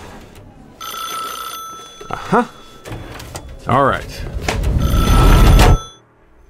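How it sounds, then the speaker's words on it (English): An old-fashioned telephone bell rings in repeated bursts, loud and close, mixed with a voice and a clatter as the phone is handled before the ringing stops. "A ringing phone doesn't sound the same to an ordinary person as it does to a journalist."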